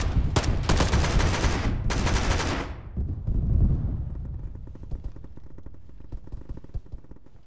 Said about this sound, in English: There's enemy all outside the church, they're starting to shoot us.